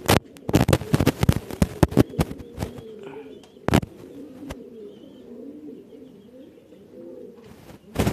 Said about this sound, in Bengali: এখানে আছে এক পেয়ার ব্ল্যাক এবং আফসান গ্রিজেল স্প্যানিশ পটার পেয়ার, জমা ডিম নিয়ে ব্যস্ত সময় পার করছে।